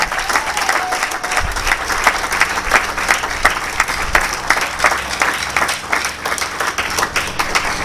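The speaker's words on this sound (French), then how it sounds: "nous pouvons applaudir pour elle encore très fort." An audience applauds loudly in a continuous wash of dense clapping that holds strong from start to finish.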